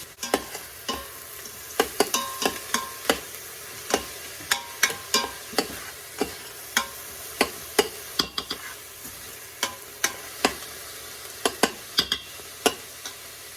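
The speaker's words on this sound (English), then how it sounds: "Give it a good mix, and we want this to fully saute." Onions sauteing in an Instant Pot for chicken tikka masala: a low steady sizzle under a spoon that scrapes and stirs in a near, regular rhythm, with sharp clicks against the pot every half second or so and no talk.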